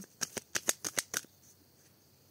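A deck of oracle cards is cut and riffled, giving about eight quick, crisp flicks in a steady run, close and fairly loud, then near silence.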